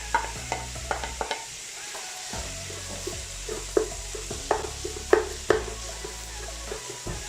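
Beaten eggs fry into chicken fried rice in a pan, with a soft sizzle beneath repeated clattering stirs and scrapes of a spatula against the metal, heard up close.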